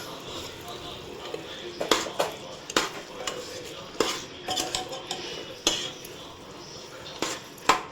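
Mutton frying in released oil in a pot, a soft sizzle under regular metal clinks and scrapes of a spoon stirring against the pot, close and moderately loud.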